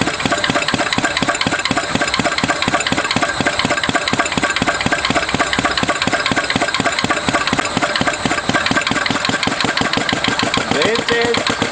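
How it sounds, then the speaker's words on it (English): A transparent four-stroke combustion engine with fully variable valve actuation runs at 500 RPM, giving a loud, steady, evenly spaced chugging pulse throughout. "This is a 4-stroke at 500 RPM."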